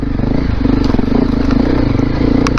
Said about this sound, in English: So many things hitting the bike.